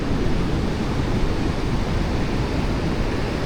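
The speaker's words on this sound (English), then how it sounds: "The sound of the waves." Ocean surf on Pasut Beach washes in as a steady, broad rushing roar, close and fairly loud, with wind-like noise and no voices.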